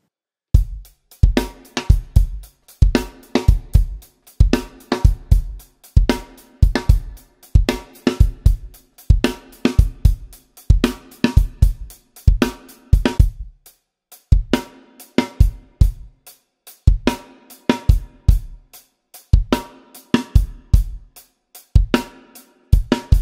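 A drum kit plays the verse beat of a song in a drum lesson, with sharp, close kick, snare and cymbal hits in a fast repeating pattern and brief pauses between phrases.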